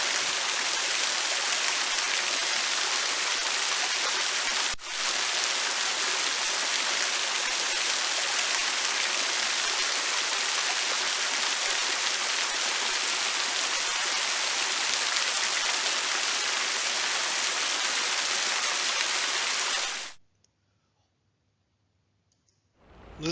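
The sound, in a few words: sound of a waterfall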